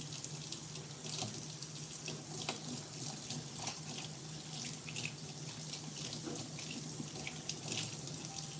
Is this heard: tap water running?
yes